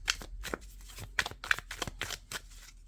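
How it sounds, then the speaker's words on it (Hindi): Tarot cards being shuffled by hand, a run of quick crisp riffling bursts in an uneven rhythm, close and fairly quiet with no talking. "अच्छे कार्ड आ रहे थे इसलिए मैंने शफल किया है"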